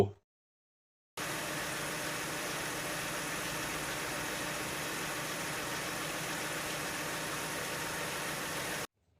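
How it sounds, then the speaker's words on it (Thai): A 1999 Nissan Cefiro A32 2.5-litre automatic engine idles steadily with a smooth, even hum, starting abruptly after a moment of silence and running unchanged until it cuts off. "ฟังเครื่องยนต์กันดู"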